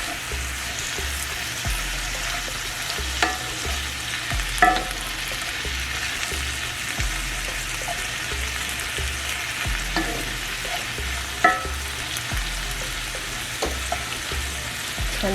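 Jamaican pepper shrimp in the shell sizzle steadily in a pan, a constant frying hiss with repeated low scraping and knocks of stirring and occasional sharp clinks, no talking.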